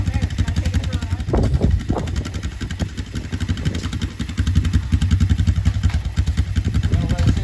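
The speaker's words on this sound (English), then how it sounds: "Let it sit there and run." A Honda motorcycle engine idles close by in a steady, clattering mid-pitched beat that runs without a break, while people talk over it.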